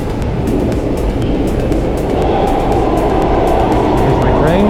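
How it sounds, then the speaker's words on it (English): An Amsterdam metro train rolls into an underground station with a steady, loud rumble and rising rail whine, wheels clicking rhythmically over the track as it approaches close by. "Here's my train."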